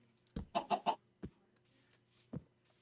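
Minecraft chickens cluck in a few quick, close bursts, a tight cluster of three clucks followed by isolated single clucks, set against a quiet background.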